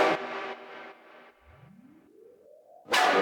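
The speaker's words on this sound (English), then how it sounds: "Starting off, we have pumping reverb" A synth chord swells and fades in rhythmic pulses while a tone sweeps upward, then a loud burst cuts back in, washed in reverb.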